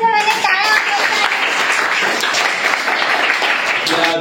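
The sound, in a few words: children clapping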